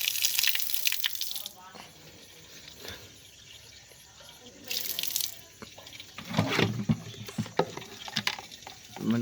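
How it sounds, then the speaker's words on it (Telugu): Water runs from a repaired PVC tap, a splashing flow with gurgles and bursts that swell and fade, heard close up without talk. "ఇక్కడ ఎలాంటి లీకేజ్ లేదు, వాటర్ చక్కగా రావడం జరుగుతుంది"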